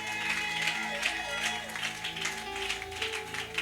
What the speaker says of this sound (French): Acclame bien, s'il te plaît.